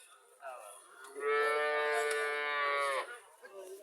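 A cow at a village cattle market in Cumilla gives one long, loud, close moo lasting nearly two seconds, with brief market chatter before and after it.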